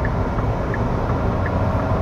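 Interior of a Hyundai Casper Turbo accelerating at about 80% throttle while merging onto a highway, a loud, steady engine and road drone with a constant low rumble.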